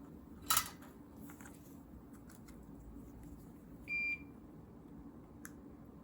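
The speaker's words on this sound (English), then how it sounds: "If you guys hear that beeping in the background, that's the soldering iron." Soldering iron beeping as it reaches temperature, a short high electronic beep tone in the middle, with a brief click or clatter earlier and faint bench noise around it.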